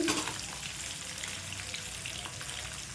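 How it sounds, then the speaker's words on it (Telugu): Fish fries in hot oil, giving a steady, close sizzle and crackle that carries on evenly throughout, with no voices. "రెండు వైపులు తిప్పుకుంటూ ఫ్రై చేసుకుని క్రిస్పీగా రావాలండి"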